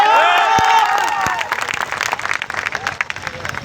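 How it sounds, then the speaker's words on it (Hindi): An audience at a kavi sammelan poetry gathering in a college in Sitamarhi bursts into cheering voices followed by sustained, dense crowd clapping, fairly loud and close, with shouts mixed in early on. "जोरदार तालियां।"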